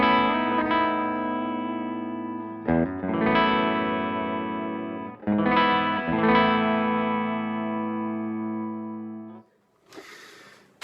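Electric guitar played through a Majestic Overdrive pedal set for clean boost, ringing sustained chords struck three times and left to decay, then a brief burst of noisy scratching at the end.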